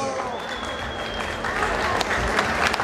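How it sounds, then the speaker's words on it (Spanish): Audience at a concert in Santa Maria Tecomavaca, Oaxaca, breaks into dense, steady applause that swells slightly toward the end, with crowd murmur and a voice heard beneath the clapping. "Vamos a recibirlo con un fuerte abrazo, con un fuerte aplauso."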